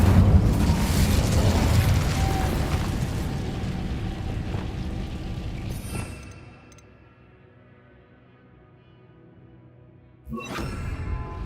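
A loud fire-spell blast from the video game Hogwarts Legacy, a sustained roaring burst that fades out midway, followed by a brief quiet stretch and a second sharp burst near the end.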